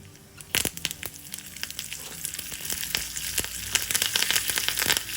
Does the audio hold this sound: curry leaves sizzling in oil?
yes